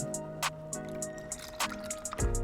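Cleaning solution is squeezed and dabbed onto an Adidas multicolor Ultraboost sneaker with Reshoevn8r cleaner: a few soft, close wet drips and squishes spaced over a steady low hum, with a faint sloshing splash near the end.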